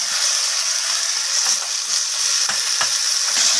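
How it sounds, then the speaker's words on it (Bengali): Spices, green peas and coriander leaves fry in a pan for a potato curry, giving a steady, close sizzle broken by a few scraping stirs. "তো সমস্ত কিছু এইভাবে নাড়াচাড়া করে কষিয়ে নিচ্ছি ভালো করে"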